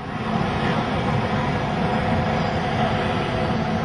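Continuous broadband roar of an airplane engine with the engine in flames, steady and loud without clear winding down, no speech.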